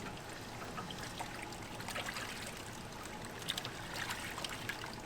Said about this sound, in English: for now I'm just going to rinse them off here in the solvent.